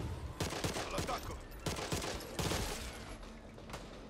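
Rapid bursts of automatic gunfire in the zombie shooter Back 4 Blood, several loud volleys spaced a second or so apart, with faint talk beneath.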